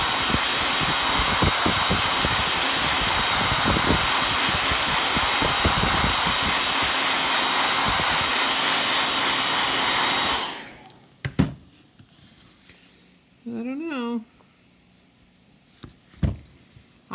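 Hair dryer blasting steadily and loudly for about ten seconds while drying a sticky stencil craft project, then cutting off abruptly, leaving scattered handling knocks and a brief whine.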